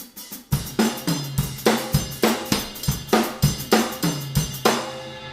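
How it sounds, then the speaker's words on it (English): Fast drum kit groove of kick drum, snare drum and toms, steady punchy hits in quick succession, close and alone with no talking. "I kind of put a groove on top of that with kick drum and snare drum and toms"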